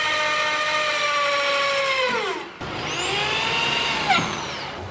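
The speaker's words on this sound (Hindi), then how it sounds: "तो इसीलिए अपन ने इसको ड्रिल कराया है।" A power drill bores into the metal body of a camper van, whining loud and close with its pitch sagging under load, then it stops briefly and revs up again for a second pass.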